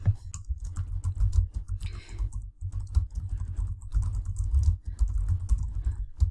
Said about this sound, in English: Let's type it in here anyway.